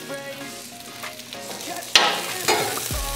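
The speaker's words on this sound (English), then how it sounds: "onions starting to get browned up" Onions fry in oil on a flat-top griddle beside a steak, giving a soft steady sizzle with a sharp clack near the middle, a brighter burst of hiss after it, and a low thump at the end.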